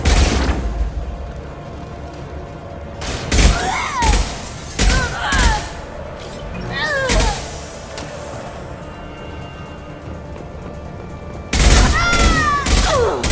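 Gunfire in the video game Mass Effect 2 comes in short, loud bursts of shots and impacts, separated by quieter stretches of ambient game sound.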